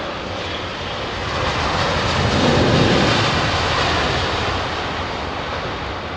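A Boeing 787 Dreamliner jet at London Heathrow Airport roars past at close range, its broad engine rumble building to a peak mid-pass and then easing off, with no talking over it.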